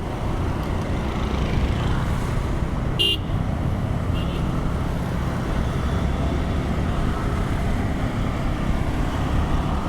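Heavy Thursday traffic jam on a Dhaka road, heard from a motorbike: a constant dense roar of engines and road noise with a short sharp horn blast near the middle and another fainter toot soon after.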